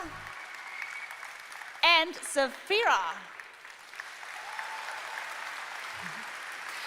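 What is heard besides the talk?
audience applauding cosplayers at Gamescom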